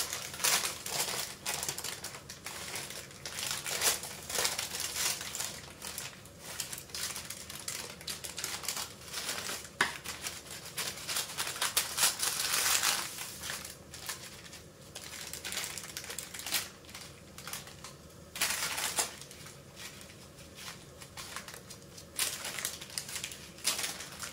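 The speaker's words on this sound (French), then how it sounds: "je vais venir enrouler à l'aide de mon papier cuisson" Baking paper crinkles and crackles while a potato roll filled with cheese is rolled up, a dense run of papery rustling taps and crumpling close by, fairly steady throughout with a few louder bursts and no talk.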